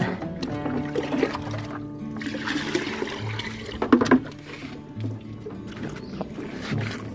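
Liquid microbe solution is poured onto garden soil being prepared for a vegetable bed, a close, continuous splashing trickle of water with a few louder gushes and knocks along the way.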